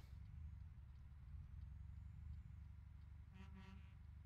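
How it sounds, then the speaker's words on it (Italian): Horn on a truck in Euro Truck Simulator 2, a short honking burst of a few pulses near the end, sounding over a steady low engine rumble, with no talk. "Ecco, un po' di clacson e vai."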